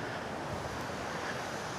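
Waves roll onto the beach at Pantai Cemara Jajar Sewu in Cilacap, making a steady, dense surf roar. Wind rushes across the microphone, and no voices are heard.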